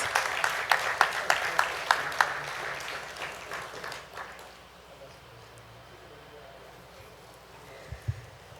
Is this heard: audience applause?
yes